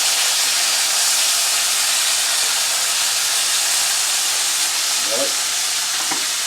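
Togarashi chili beef fries in an uncovered pan with no splatter screen, giving a steady, close, broadband sizzle and hiss throughout, with a brief voice near the end.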